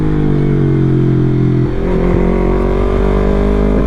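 A Yamaha MT03 motorcycle rides along a rough, twisty road, its engine droning loud and close with a steady pitch that drops as the rider eases off, then holds at a lower hum.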